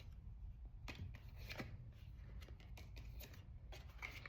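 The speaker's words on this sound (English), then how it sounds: "I've been shuffling for like, again, I'm working on my shuffling." Tarot cards are shuffled quietly and close, giving soft, irregular riffling bursts and light slaps with no talking.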